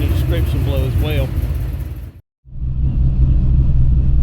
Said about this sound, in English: You probably can hear the car chopping right now.